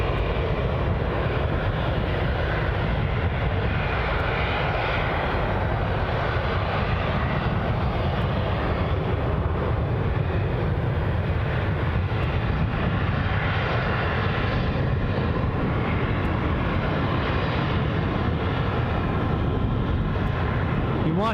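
Steady broadband roar of EasyJet airliner engines at Glasgow International Airport, a continuous loud rumble with a broad hiss, holding level throughout with no clear speech.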